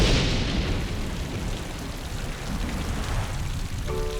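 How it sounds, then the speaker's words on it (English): Cartoon rain effect, a steady dense hiss of falling rain that stays loud and even throughout. "My, that cool rain feels nice."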